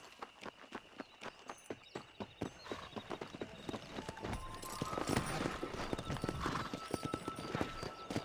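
Horse hooves clip-clop in the Western video game Red Dead Redemption, a steady walking rhythm that quickens toward a busier gallop, fairly quiet with faint background layers.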